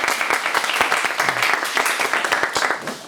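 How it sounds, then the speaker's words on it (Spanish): A school audience at a high school event gives a short burst of applause, brisk overlapping claps that swell and then ease off near the end. "Venga, un aplauso."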